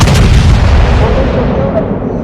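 Heavy naval guns firing in a World of Warships sea battle: a loud, close boom with a sharp onset that decays into a long rolling rumble, with no talk over it.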